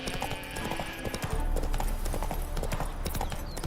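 Horse hooves clip-clopping in a brisk, uneven rhythm in The Witcher 3: Wild Hunt, close and clear over a faint background of ambient sound.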